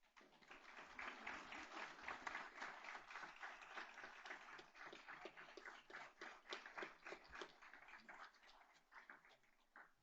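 An audience at a school board meeting gives a round of applause, a soft, distant patter of many hands clapping steadily for several seconds before tapering off.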